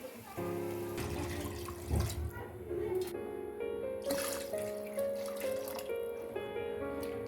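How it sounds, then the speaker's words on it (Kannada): Water poured from a glass into rice in a cooking pot while making kuska rice, a steady close pour whose tone rises gently as the vessel fills, continuing for several seconds. "ಈ ಗ್ಲಾಸಿಲೆ 6 ಗ್ಲಾಸ್ ನೀರು ಹಾಕ್ತೇವ್ರಿ."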